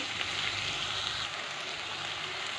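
Ground spices fry in a pan for Bengali chicken kosha, giving a steady, close, hissing sizzle that runs unbroken with no talking.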